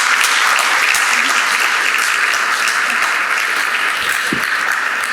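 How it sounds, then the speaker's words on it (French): Audience at a welcome session of a gathering in Saumur applauding students, loud, dense, sustained clapping from a large crowd throughout, close and even. "si vous le voulez bien, merci de les applaudir très fort"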